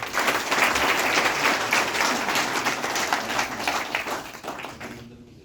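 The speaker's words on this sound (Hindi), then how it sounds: "एक बार ताली बजा दो।" A crowd at a BJP organisational election meeting in Ambala Cantonment applauds in a loud, sustained burst of clapping that fades out at the end, with no speech over it.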